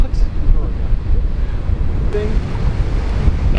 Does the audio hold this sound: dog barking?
no